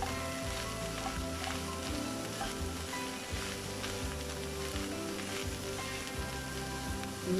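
Vegan burrito filling sizzles steadily in a hot pan after cumin and seasoning go in and it is stirred, a continuous close frying hiss over a low rhythmic backdrop.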